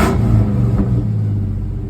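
A New Edge Ford Mustang engine revs briefly at the start, then the low rumble eases down and holds a steady, near idle hum with no talk over it.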